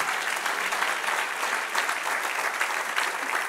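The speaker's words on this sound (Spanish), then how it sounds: "Denle un aplauso al Señor." A church congregation applauds with steady, dense clapping that stays even and sustained from start to finish.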